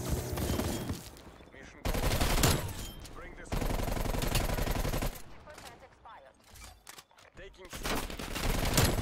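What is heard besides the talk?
QBZ-83 rifle gunfire in Call of Duty Cold War video game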